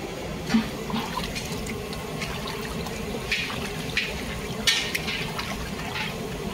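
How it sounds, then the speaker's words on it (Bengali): Pieces of rohu fish are rinsed under running water, a steady close stream from a tap broken by occasional splashes and light clatter. "মাছটা পরিষ্কার করে এবার ধুয়ে নিই।"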